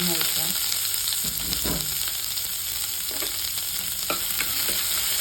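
Mustard seeds spluttering with onion and tomato frying in hot oil, a dense continuous sizzle punctuated by scattered sharp pops and stirring scrapes.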